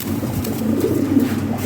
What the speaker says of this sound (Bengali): কবুতর ডিমে আছে তো, ডাকেও খুব ভালো।